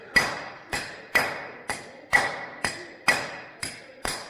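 A hammer striking a square socket to drive the seal out of a Rotax gearbox on an EDGE STi engine, nine sharp metallic blows at an even rhythm about half a second apart, loud and close with ringing decay.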